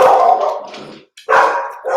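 A dog barks loudly and close by in a few sharp, rough bursts separated by a brief pause, with no other sounds around.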